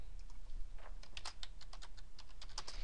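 Computer keyboard keys pressed in a quick irregular series of crisp clicks while entering Excel shortcuts such as Control Shift down arrow, close and fairly quiet, with no talking over them.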